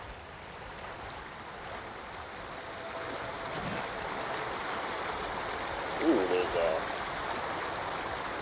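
Water flowing by a waterfall in the video game Ghost of Tsushima, a steady broadband rush that continues throughout, with a person talking briefly over it near the end.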